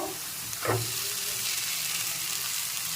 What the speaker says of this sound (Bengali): এবার এর মধ্যে আমি ভেজানো সাবুটা মিশিয়ে নেব